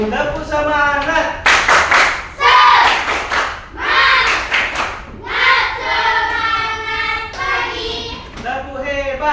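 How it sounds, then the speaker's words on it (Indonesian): A class of standing students performs rhythmic clapping chants in a training session, loud, close group claps in patterned bursts mixed with their chanted voices. "Tepuk semangat."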